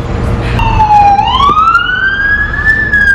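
An ambulance siren passing on a street, its wailing tone clear and loud as it sweeps up and down over background traffic rumble.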